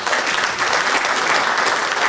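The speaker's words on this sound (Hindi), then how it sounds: "जोरदार तालियां इनके लिए।" Audience applause at a conference session, a dense steady wash of clapping filling the room and holding at an even level throughout, with no voices on top.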